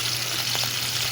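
Fish fries in oil, sizzling and crackling steadily, a close frying hiss with a brief splutter midway.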